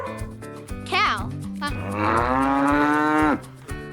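A cow lets out one long, loud, drawn-out moo in the middle, with a few short animal-like sounds at the edges, against an otherwise quiet background.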